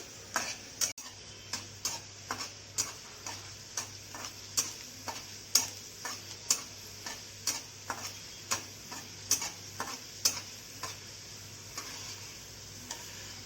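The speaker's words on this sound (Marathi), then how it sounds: "तेल जास्त गरम झालेलं नाही ना त्याच्यामुळे काय झालं लसण उडतोय थोडा लालसर होऊ देऊन काढून घेऊया आपण" Garlic fries in not-quite-hot oil for a raw mango pickle, crackling and popping in sharp, evenly spaced spurts over a faint steady sizzle, fairly quiet and close.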